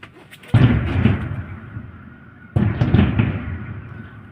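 Fireworks at a closing-night exhibition show boom twice about two seconds apart, each loud deep bang trailing into a long rumbling echo, with no voices.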